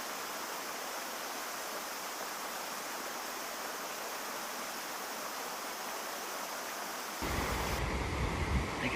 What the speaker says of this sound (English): Look at that snow melt, making the waterfalls.